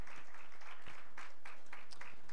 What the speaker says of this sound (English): Come on, clap them hands and give God glory.